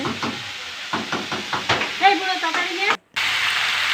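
Vegetables sizzling and frying in a pan in a home kitchen, a steady hiss with stirring clatter throughout, briefly cut out near the end, while a voice talks over it.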